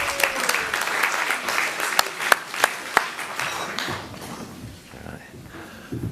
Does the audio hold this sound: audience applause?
yes